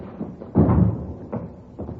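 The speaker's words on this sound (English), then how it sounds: "Here, I'll get the door." An interior door swung shut by hand, heard as a soft thud followed by a few lighter knocks and rattles in a quiet room.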